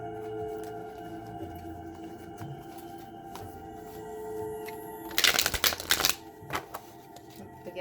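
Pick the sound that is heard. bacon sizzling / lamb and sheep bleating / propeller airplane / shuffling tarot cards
shuffling tarot cards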